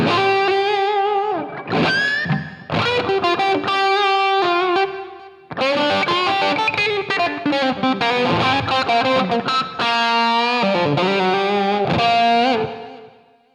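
Overdriven electric guitar through a Line 6 HX Stomp with a Klon-style drive and a crunchy Plexi amp model, playing chords and single-note lines with reverb and delay trailing off, loud and alone.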